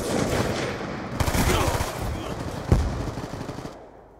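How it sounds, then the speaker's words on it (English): Sustained light machine gun fire in Call of Duty Black Ops 2, a dense rapid rattle of loud shots lasting several seconds before trailing off with one sharper crack near the end. "I'm using an LMG as an assault weapon."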